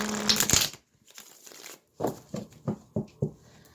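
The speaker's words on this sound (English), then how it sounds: "I'm being called to shuffle, so let's shuffle." Tarot cards being shuffled by hand, a loud riffling burst at the start, then a pause and a run of five short, crisp card-slapping bursts at a steady rhythm, close and without talk.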